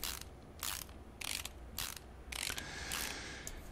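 Rapid ratcheting clicks from head bolts being run down on an engine in Car Mechanic Simulator 2018, coming in five or six even bursts with short gaps between them, close and fairly loud, with no voices.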